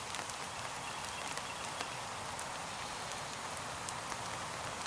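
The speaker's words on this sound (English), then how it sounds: "I get to feel the rain falling on my skin." Rain falls in a soft, steady hiss with faint scattered patters, quiet and even throughout, no voices.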